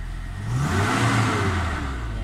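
A Toyota Innova gasoline engine revs up and holds high, a loud, close whirring roar that rises and then eases slightly, heard on its own.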